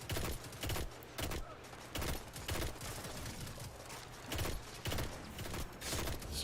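Pulse rifle fire in Destiny 2, quiet bursts of three or four shots repeating at a steady cadence, each burst sharp and clustered, set far back under game ambience with faint voices.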